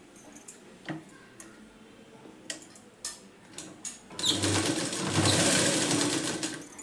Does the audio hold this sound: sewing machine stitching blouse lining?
yes